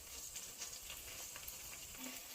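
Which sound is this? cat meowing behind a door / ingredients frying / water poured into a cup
ingredients frying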